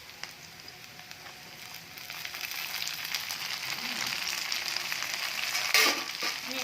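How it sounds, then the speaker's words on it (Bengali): Tomatoes drop into a frying base for sambar, a steady broadband sizzle that swells louder partway through, with a sharp burst of crackling near the end as the tomato hits the hot oil. "এর মধ্যে আমি এবার টমেটোটা দিয়ে দেবো।"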